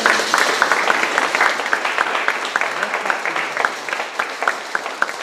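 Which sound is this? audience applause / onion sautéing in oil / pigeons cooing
audience applause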